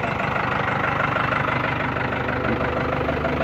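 A camper van's engine idles steadily and close by at a loud, even level, running alone without talk.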